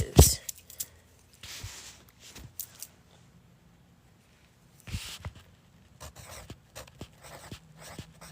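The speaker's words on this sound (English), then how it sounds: "let's actually erase it." Short scratchy strokes of an eraser rubbing across writing come in scattered bursts, faint and close, separated by quiet pauses.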